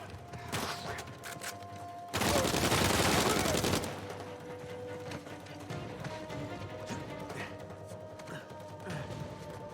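A powerful gun in the video game Uncharted 4 lets loose one loud, dense burst of rapid gunfire lasting under two seconds. Quieter game sounds and clatter continue before and after it.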